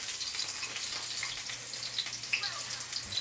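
Garlic frying in a pan in a home kitchen in Japan, a steady close sizzle with scattered crackles and pops throughout, no talking.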